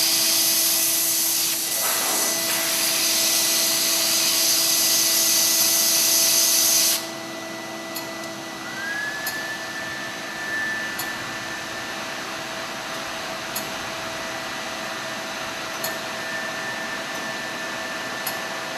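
A hair dryer blows on steamed clothes, a loud, steady broadband rush that cuts off partway through, leaving a quieter hum with a rising whine and faint periodic ticks.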